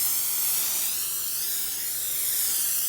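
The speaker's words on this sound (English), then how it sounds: "coat this with cooking spray." Cooking spray hisses onto a baking sheet in a continuous spray for a few seconds, close and fairly loud, with no voices.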